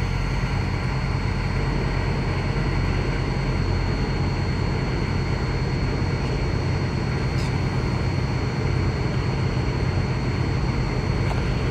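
A drone flying before landing near Noel, Missouri gives a continuous, loud, steady buzzing hum that stays even throughout, with no voices.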